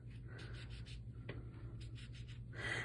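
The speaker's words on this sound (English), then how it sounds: "just kind of sponging and burnishing" A sponge dabs and rubs ink onto a delicate die cut in a series of soft, close scrubbing strokes, quiet and steady, with no talking.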